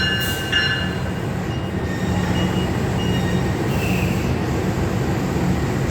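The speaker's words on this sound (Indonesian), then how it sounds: "ini bukan kereta KRL tapi kayaknya antar kota" An intercity train, not a KRL commuter, pulls into a station near Solo with a steady, heavy rolling rumble, thin metallic wheel squeals rising and fading over it, close and continuous.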